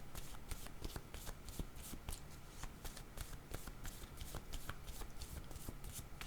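Oracle cards shuffled for a reading, a steady, continuous riffling and flicking of card stock with quick repeated slaps, close but soft, with no voices.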